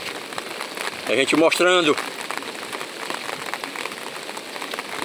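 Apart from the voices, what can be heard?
rain increasing over the Acaraú river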